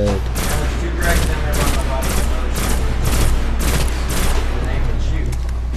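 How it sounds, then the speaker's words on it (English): Gunfire in the Destiny video game rings out as a rapid, steady series of loud sharp shots, about eight or nine evenly spaced bursts, over a constant low background rumble. "There's a sniper up there, but they're sniping."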